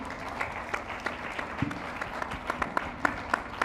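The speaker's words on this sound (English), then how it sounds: "A round of applause, and thank you so much for joining us tonight." Audience at an evening investment conference gives a round of applause, a thinning patter of distinct claps with sharper individual hits standing out near the close.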